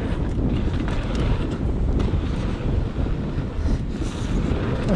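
Strong wind blows against a freerider riding a chainless bike at Bikepark Winterberg, a loud, constant rumbling roar buffeting the microphone for the whole stretch, with no talking.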